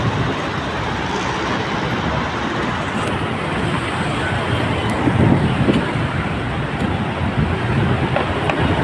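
Steady road traffic rumble fills a long, slow queue at Bicutan, Sucat: a dense, continuous broadband wash of idling and creeping vehicles, moderately near, with faint horn-like tones and small swells but no clear voices.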